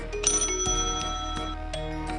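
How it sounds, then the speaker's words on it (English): An old hotel bell from France, dating to the late 1700s or early 1800s, rings with bright metallic strikes and long shimmering overtones, several close, clear dings sounding one after another with nothing else around them. "It's an old hotel bell."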